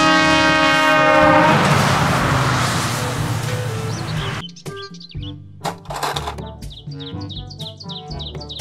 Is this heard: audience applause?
no